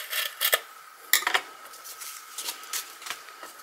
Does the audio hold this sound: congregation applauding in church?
no